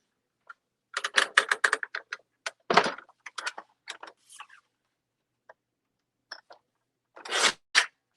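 Cardstock being trimmed down to 4 1/4 inches wide on a paper cutter, heard as a quick run of crisp close clicks and slicing scrapes, a pause, then a short, louder burst of cutting.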